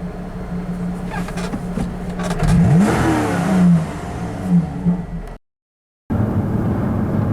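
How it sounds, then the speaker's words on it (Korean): A Lotus Exige S, the new 350-horsepower model, starts up and revs hard, its engine rising in pitch and falling back several times up close, followed by a steady idle after a short cut of silence. "그 다음에 이제 시동이 걸리죠."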